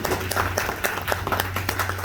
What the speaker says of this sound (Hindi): सभी अपलाइन के लिए जोरदार तालियां।